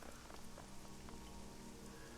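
Steady rain patters down in a park in the video game Shadowrun Hong Kong, a dense, even wash of drops with no breaks and no voices.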